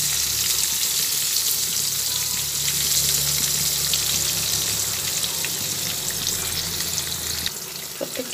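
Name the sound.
pointed gourd frying in a pan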